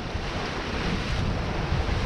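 Steady wind and rolling sea waves aboard a sailboat in open water during a crossing from Calvi to Bandol, a continuous broadband rush with no talk.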